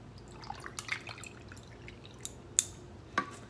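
Raspberry lemonade with fresh lemon poured into a glass, heard as a faint trickle with scattered drips and a couple of sharper glassy clinks, close by with no talking.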